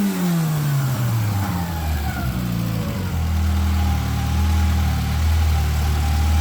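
A Peugeot TU5 engine without a catalytic converter and with a thinner head gasket drops from a rev to a steady, rough low idle. It runs loud and close with no talking.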